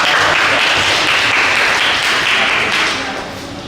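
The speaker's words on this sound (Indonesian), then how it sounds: "Tepuk tangan untuk" Students applauding in a classroom, a loud dense burst of clapping that holds steady, then tapers off in the final moments.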